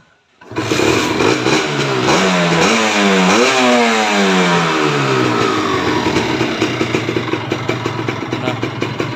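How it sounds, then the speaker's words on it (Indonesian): A 2010 Kawasaki Ninja RR motorcycle engine starts and is revved repeatedly as it warms up, rising and falling in pitch, then settles into a steady, loud, close idle with a pulsing beat. "ini Ninja RR Ul-nya, mesinnya kita panasin ya"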